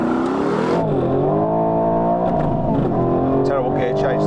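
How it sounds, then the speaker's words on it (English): An Aston Martin pulls hard off the line at a drag race, its engine note climbing and then dropping at a gear change before rising again, loud and close throughout. "Terrible gear change there."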